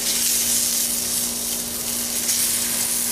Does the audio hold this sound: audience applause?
no